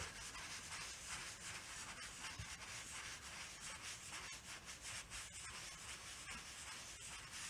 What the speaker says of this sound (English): Just give it a little rub.